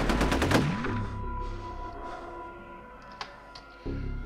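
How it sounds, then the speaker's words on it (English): Rapid gunfire in the video game F.E.A.R., a dense burst of shots up front that fades into lingering echoing reverb, with a couple of sharp clicks near the end and no talking. "Just keep shooting, he'll die eventually."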